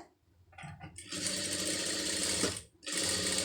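A sewing machine stitches a sari blouse seam, starting with a few hesitant stitches before settling into a fast, steady whirring run. It pauses briefly, then picks up again at full speed.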